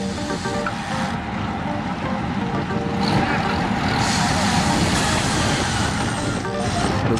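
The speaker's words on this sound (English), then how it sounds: "There's a car coming" A car approaches along a road during a group cycling ride, its steady engine and tyre rumble rising in level midway and staying loud and close amid wind and road noise.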